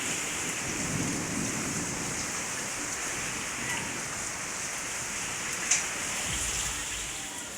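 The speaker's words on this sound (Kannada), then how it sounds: "ಗುಡುಗು ಸಿಡಿಲು ಸಹಿತ ಧಾರಾಕಾರವಾಗಿ ಮಳೆಯಾಗ್ತಾ ಇರುವುದು ಬೆಳಗಾವಿನಲ್ಲಿ" Heavy, steady downpour during a thunderstorm in Belagavi, with a continuous dense hiss of rain and low thunder rumbles near the start and again toward the end, with no voices.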